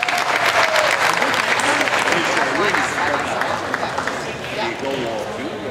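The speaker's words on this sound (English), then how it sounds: "Let's give these guys one more round of applause." Audience applause at a Jersey heifer show in Ontario, a sustained round of clapping from the crowd after champions are named, with a few voices and some arena noise mixed underneath.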